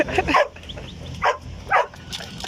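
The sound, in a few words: guard dog barking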